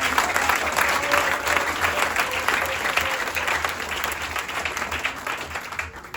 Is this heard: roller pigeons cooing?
no